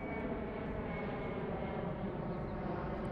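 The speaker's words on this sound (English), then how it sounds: "There's the plane." A steady, broad engine drone from an airplane flying overhead in Los Angeles fills the whole stretch, constant and fairly loud without clear rise or fade.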